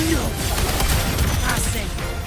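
Gunfire in the game Wuthering Waves, a dense, loud burst of crackling shots over a busy mix of combat effects, lasting only a couple of seconds.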